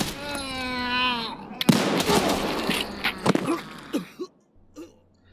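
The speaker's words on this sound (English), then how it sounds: "My shooting was pretty terrible here" Gunfire in Escape from Tarkov on the Interchange map: a loud burst of shots follows a voice, then a few sharper single cracks ring out, tapering to quiet.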